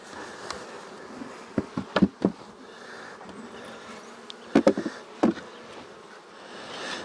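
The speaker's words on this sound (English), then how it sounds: "there's bees under that brood frame" Honey bees buzz around a hive brood frame while nucs are being made from hives: a steady low drone throughout, broken by several sharp knocks and clunks of equipment near the middle and later.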